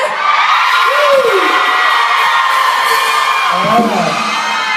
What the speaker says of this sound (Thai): ขอเสียงกรี๊ดให้กับกระบุ๊กหน่อยได้ไหม